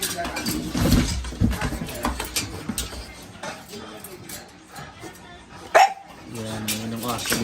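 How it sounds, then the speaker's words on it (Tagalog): A dog barks a few times at close range amid people chatting and moving around outdoors. "Ito guys, mga aso."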